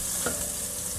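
Battered crappie fries in a pan with a steady, close sizzle and a brief scrape or stir partway through, with no voices.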